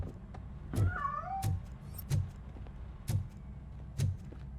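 In the RoboCop Rogue City video game, a cat meows and yowls at close range over low background rumble, punctuated by several sharp, evenly spaced knocks or thumps.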